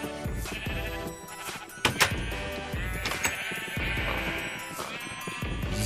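Sheep in the video game Minecraft bleating repeatedly, several wavering bleats close by over a constant background, some overlapping, with a short thump in the middle and no speech.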